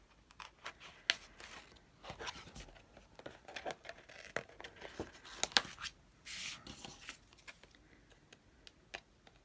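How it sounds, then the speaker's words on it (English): Scissors snipping through template material while cutting curved pieces for a quilt block, a quiet, close series of irregular crisp snips and clicks. "I'm going to move, not the scissors, but the template material as I cut."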